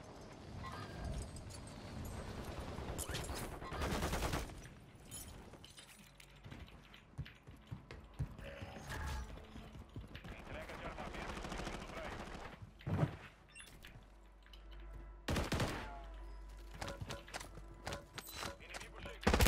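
Bursts of gunfire in Call of Duty Warzone (Modern Warfare 3) crack out in several loud volleys over a steady busy game background, with footsteps and scattered shots between them.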